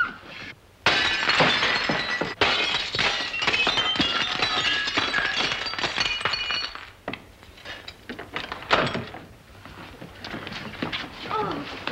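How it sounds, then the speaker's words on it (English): A glass pane in a door shatters loudly and close, followed by a long stretch of crashing, tinkling and falling shards, with a brief cry amid the breaking. "Break the glass."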